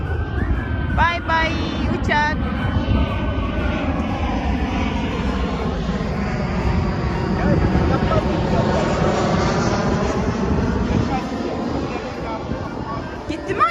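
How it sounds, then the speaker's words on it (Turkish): A large airplane roars overhead, its engine drone steady and loud throughout, with occasional voices talking underneath. "kocaman uçak geliyor bak"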